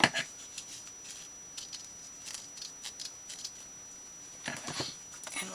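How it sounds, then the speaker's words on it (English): Scissors cut paper for a papercraft journal: a string of soft, close snips spaced irregularly, with a quicker cluster of cuts near the end, all quiet against a still background. "So we'll cut this here"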